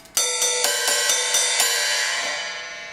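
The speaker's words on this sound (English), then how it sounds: "Over here we have the ride cymbal." A large ride cymbal is struck in a quick series of about six hits, giving a bright, shimmering wash that builds and then slowly decays. The sound is close and loud.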